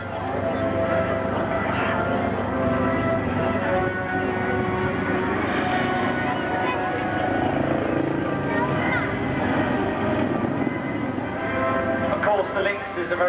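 Army Air Corps Lynx helicopter flying at the 2013 Sunderland air show, a steady droning rotor and engine roar held throughout with an announcer talking over the public address.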